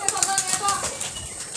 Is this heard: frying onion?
no